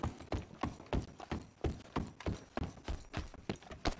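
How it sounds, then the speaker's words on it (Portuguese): Horse hooves pound in a steady galloping rhythm in the video game Red Dead Redemption 2, each beat a sharp thudding impact, moderately quiet with no talk over it. "Eu vou no cavalo, então, peraí."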